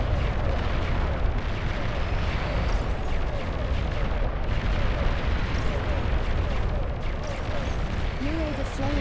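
A destroyed enemy commander unit explodes in a video game, amid a dense, relentless barrage of rumbling blasts and gunfire-like pops that stays loud and constant throughout.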